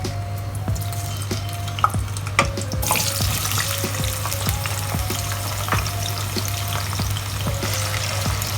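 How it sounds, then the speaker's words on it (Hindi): Potatoes frying in hot oil for aloo baingan wadi masala, a steady close crackling sizzle with small pops and occasional utensil clinks over a constant low hum, no voices. "और इनको गोल्डन ब्राउन होने तक हम फ्राई करेंगे।"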